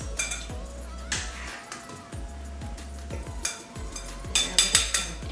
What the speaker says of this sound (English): So let's go ahead and fish out our dumplings.